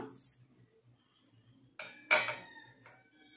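Metal bowls and a plate clink and clatter as they are set down and handled in a home kitchen, with two sharp ringing knocks, the second louder, between quieter stretches.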